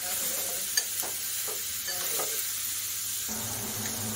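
Soaked mung beans fry lightly in a pan with a soft, quiet sizzle and a few stirring scrapes and taps, then a brief change in the frying hiss near the end; no one talks.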